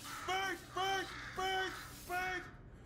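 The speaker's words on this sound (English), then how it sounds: "that's probably the bird in it that laid the eggs" Bird squawks in Portal 2, four harsh harmonic calls about half a second apart, fairly close and loud, the last one trailing off.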